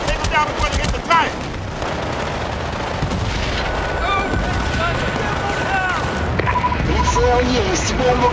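Battlefield: Bad Company battle with dense gunfire and booming RPG explosions, loud and continuous, under shouted talk.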